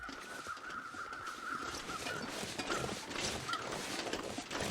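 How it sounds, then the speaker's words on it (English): Several distant crow caws in The Long Dark ring out over a steady, noisy ambient background, spaced irregularly across the stretch. "I also I heard bear crows back behind me to the right."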